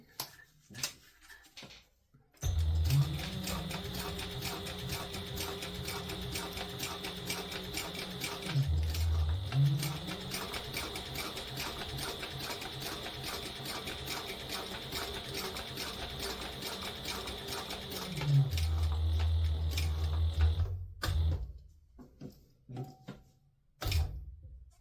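A sewing machine stitches a leather wallet at a 1/8-inch seam allowance, running in a steady close mechanical drone that briefly pauses twice for pivots and stops near the end.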